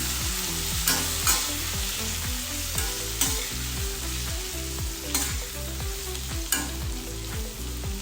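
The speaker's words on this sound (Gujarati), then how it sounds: "એક તેલનું કોટિંગ થઈ જાય એ રીતે મિક્સ કરી લેવાના છે" Vegetables are stirred in a pan of hot oil: a continuous crackling sizzle with rhythmic scraping strokes of a spoon against the pan, close and fairly loud, without speech.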